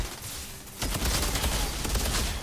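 Rapid assault rifle fire in the Outriders shooter game, a dense loud burst of shots that starts abruptly and continues steadily to the end, with no talk over it.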